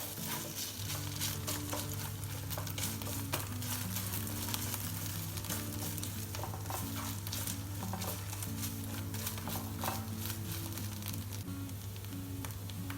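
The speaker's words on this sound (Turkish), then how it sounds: "Şöyle bir tatlı kaşığı kadar salçamızı da koyalım. Onu da kavuralım soslarımızla beraber." Tomato paste sautés with sauces in a tray for oven-baked kumpir, giving a steady close sizzle with soft stirring scrapes and patters throughout, under a constant low hum and with no talking.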